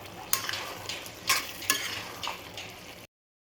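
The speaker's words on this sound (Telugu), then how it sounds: "ధనియాల పొడి అన్నీ వేసుకొని ఇట్లా బాగా కలుపుకోవాలి." Chicken tossed with garam masala, coriander powder and chicken masala in a hot pan, giving a soft sizzle broken by several distinct scraping stirs before it cuts off.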